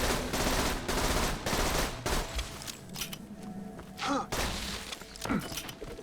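Rapid bursts of automatic gunfire from a big-magazine gun in Borderlands 2, loud and close, with dense strings of shots broken by brief pauses and sharp impact thuds.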